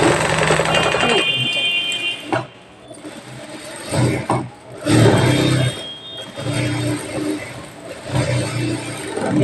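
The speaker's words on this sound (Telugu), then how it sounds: "ఎట్లాగో 2 కుట్టు వేయాలి కాబట్టి మనం ఇలా డబుల్ కుట్టేసేసుకుందాము" A sewing machine runs a double line of stitching along a folded hem on a small child's skirt, uneven bursts of rapid mechanical whirring that start and stop, close by, with someone talking quietly underneath.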